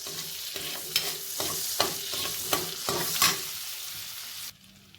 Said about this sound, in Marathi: बटर थोडंसं मेल्ट झालंय मी आता याच्यामध्ये घालते लसूण